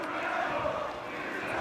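A school rugby crowd in the stands at Kingsholm Stadium keeps up a dense, steady roar of cheering and shouting, heard at a distance under continuous commentary.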